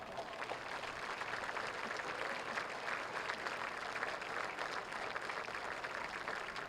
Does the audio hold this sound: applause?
yes